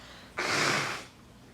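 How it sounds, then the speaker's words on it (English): A single forceful nose blow, a broad rushing burst lasting under a second, close to the mic, with quiet before and after. "I do have to blow my nose."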